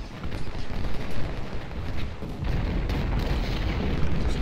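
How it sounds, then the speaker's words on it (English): Continuous rumbling booms and blasts of cannon fire in Ultimate General: Civil War, Cross Keys battle, dense and loud, with no talking. "Just cannons."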